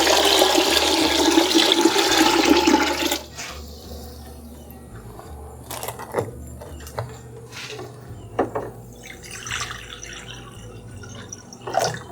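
Water poured into a pot while canning pears, a loud splashing pour for about three seconds that stops, followed by quieter clinks, drips and handling sounds in a kitchen.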